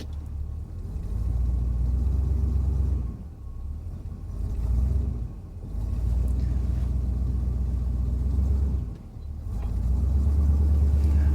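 A four-wheel-drive truck engine rumbles steadily up close, its low drone swelling and easing several times as it works under load pushing another car.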